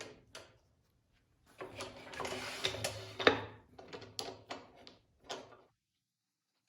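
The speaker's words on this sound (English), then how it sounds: "I'm going to lightly clamp this down" Close-up clamp handling on a sliding table saw, heard as a series of short metallic clicks, knocks and scrapes with a few louder clunks, separated by brief pauses.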